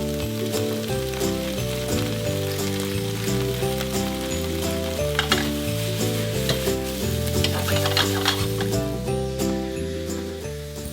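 Ratatouille vegetables with sage and garlic fry in a pan, giving a continuous bright sizzle and crackle with stirring, mixed under steady background music.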